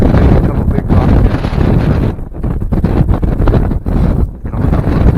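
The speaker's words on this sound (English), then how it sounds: "The wind's been up and down, up and down." Gusty wind blows hard across the microphone on an exposed mountain ledge along the way to a lake, a loud continuous roaring buffet that surges and briefly eases.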